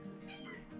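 A hungry cat lets out a single short, faint meow, close by and alone.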